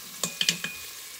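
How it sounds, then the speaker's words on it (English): Onions soften in an Instant Pot with a light sizzle, heard as four quick stirring clicks and scrapes close by. The sizzle sits quietly underneath, with no talking. "We're not browning it hard, which is softening the actual onion."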